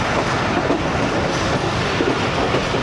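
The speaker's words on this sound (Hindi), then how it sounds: "सांगला हिल जंक्शन पहुंच रही है ट्रेन।" A passenger express train rolls into Sangla Hill junction in the evening, giving a steady, loud rumble with dense rhythmic clatter of wheels on rails and no voices.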